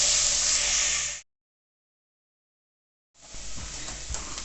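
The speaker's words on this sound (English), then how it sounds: "we've had the onion, the celery and the chilli frying for about 3 or 4 minutes now" Steady broadband sizzling of onion, celery and chilli frying in a pan, cut off by a stretch of silence before the hiss resumes with faint clinks.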